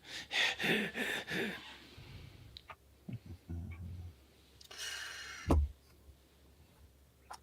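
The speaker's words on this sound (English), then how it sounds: "start breathing heavy" A person breathes heavily in a quick series of loud, rhythmic gasping breaths at first, then quieter breaths and rustling sounds follow, heard close with no speech.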